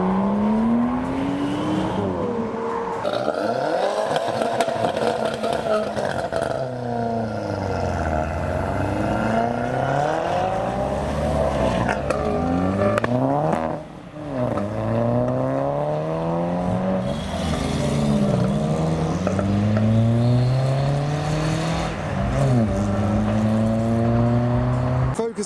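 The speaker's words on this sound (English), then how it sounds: "There is a Seat pulling out as well." A lowered Seat pulls away from a car show, its engine revving in repeated rising and falling sweeps with gear changes, loud and close, mixed with other cars' engines nearby.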